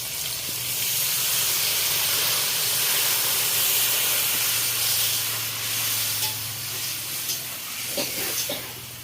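Black and white mustard seeds and a splash of water sizzling in a hot pan during cooking of a prawn sour dish, a steady close hiss that eases slightly toward the end.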